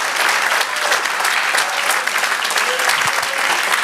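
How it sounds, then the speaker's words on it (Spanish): A church congregation applauds steadily throughout, in a dense, loud, continuous wash of clapping with faint voices beneath it. "Dale aplauso al Señor y celébrelo."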